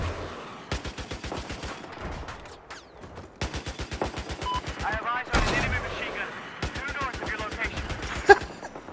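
Rapid automatic rifle bursts from the Battlefield 4 video game, including an AK-5C, fire in several long rattling volleys separated by short pauses, loud and close, with someone talking between and over the shooting.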